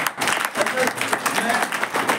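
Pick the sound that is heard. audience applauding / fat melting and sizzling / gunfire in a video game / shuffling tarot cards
audience applauding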